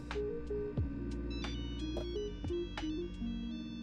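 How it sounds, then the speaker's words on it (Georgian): A Nokia phone ringtone plays inside a Georgian video game, a clear electronic melody of repeated tonal notes ringing out alone and fairly close. "Nokia ტელეფონი."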